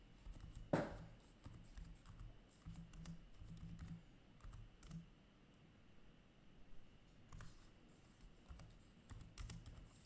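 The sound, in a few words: typing on a computer keyboard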